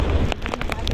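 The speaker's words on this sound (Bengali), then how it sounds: "মানে কন্টিনিউ বৃষ্টি হয়ে যাচ্ছে" Rain falls on a boat on the Hooghly River in a brief burst of close, pattering drops over a low wind rumble.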